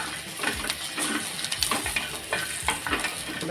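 Grated coconut roasts in a pan for a spicy crab curry, a steady dry sizzle with repeated scraping stirs, close and fairly loud.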